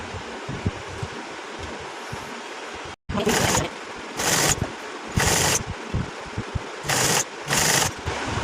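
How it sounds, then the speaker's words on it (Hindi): A sewing machine stitches a folded edging along a fabric frill for a neck design, running in several short bursts of whirring separated by pauses, close and fairly loud, after a quieter stretch of handling noise. "इसको हमने थोड़ा फोल्ड करना है इस तरह अरेब को, और फिर यहाँ से हमने सिलाई शुरू करनी है"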